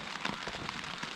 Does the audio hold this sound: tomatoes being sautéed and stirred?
no